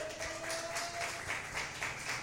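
Applause from a church congregation during a sermon, a steady wash of many hands clapping, fairly faint and distant, with a thin sustained tone running beneath it.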